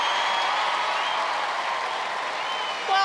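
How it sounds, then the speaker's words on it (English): Sustained applause and cheering from a studio audience at a televised Gladiators competition show, a dense steady wash of clapping that holds loud throughout. "Let's have a big round of applause for Mark"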